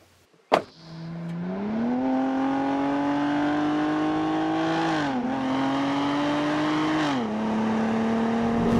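A Cadillac ATS V6 starts with a sharp crank, then revs up loud and close. The engine pitch climbs steadily, dips and rises again twice, and holds a strong sustained drone throughout.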